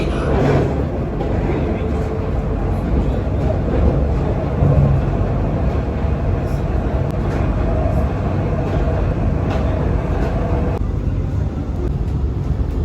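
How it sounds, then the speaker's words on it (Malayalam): A steady low rumble of the Dubai Tram rolling along rails, continuous and fairly loud, with faint voices mixed in. "ട്രാം ഒരു സ്റ്റേഷനിൽ നിർത്തിയ ശേഷം വീണ്ടും മുമ്പോട്ടേക്ക് എടുക്കുവാണ്"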